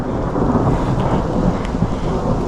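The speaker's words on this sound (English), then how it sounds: "Thunder." Thunder rumbles steadily during a rainstorm on a hike along the Long Trail, a loud continuous low roar blended with the hiss of falling rain, with no voices.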